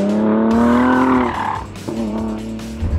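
A Ford Performance car with a 650-horsepower, 3.5-litre EcoBoost twin-turbo engine roars close by. The engine's pitch climbs, briefly dips, and then steadies again as it keeps revving hard.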